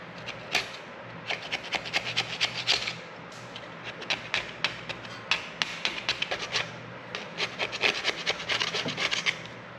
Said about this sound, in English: Get this old gasket off of here first.